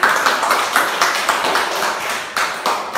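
A school class in an Indonesian junior high lesson claps for a classmate, a close, loud burst of hand claps with uneven pulses running the whole time.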